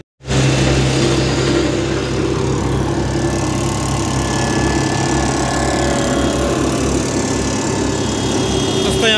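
Road roller engine running for rolling work on a road site, a loud continuous diesel drone that starts abruptly and holds steady and close throughout.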